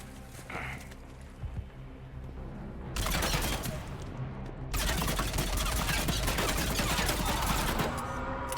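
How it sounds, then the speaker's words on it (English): Assault rifle fire in Mass Effect 3, quiet at first, then loud sustained automatic bursts of rapid cracking shots, broken by a brief pause before the fire resumes and continues steadily to the end. "I'm liking this assault rifle a lot"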